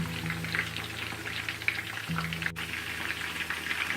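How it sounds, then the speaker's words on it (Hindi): Pieces of Lahori-style fish deep frying in hot oil, giving a continuous dense crackling sizzle with a low steady hum underneath, no voices. "क्योंकि हम डीप फ्राई कर रहे हैं।"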